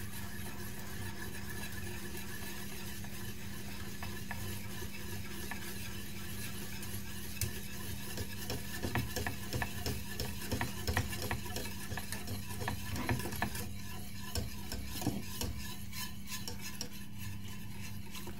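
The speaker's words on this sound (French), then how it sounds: "Je mélange à feu doux." Mac and cheese being stirred with added milk in a pot over low heat, a soft continuous scraping and stirring with light clinks, steady and close, no voices.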